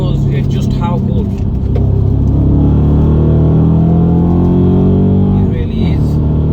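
An Audi RS4 B7 with its stock exhaust, not in sport mode, puttering along at a steady low rumble throughout, loud and close, with a voice talking over the engine.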